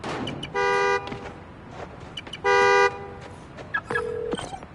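Two loud video game car horn honks from a key fob in Marvel's Spider-Man: Miles Morales, a couple of seconds apart, followed by a short lower electronic beep, with a steady hum underneath.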